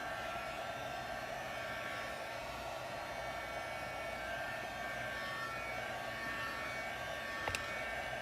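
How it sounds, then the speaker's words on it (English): A hand-held blow dryer runs steadily to dry alcohol ink on Yupo paper, a continuous close, even whooshing hum for the whole stretch, with a sharp knock near the end as the dryer bumps something. "I hit the camera with the blow dryer, the air dryer."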